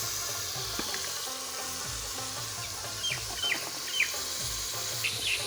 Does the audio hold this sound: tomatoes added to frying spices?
yes